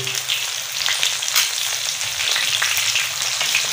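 Fish sizzles steadily on a hot tawa, a constant loud crackle of frying oil broken by a few sharp clicks and scrapes as the pieces are turned, with no talking.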